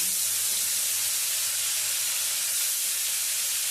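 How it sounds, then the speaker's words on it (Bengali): Katla fish frying in hot mustard oil gives off a loud, steady, close sizzle, a dense unbroken hiss with no voices. "এখন তিনটে করে মাছ ভেজে তুলে নেব।"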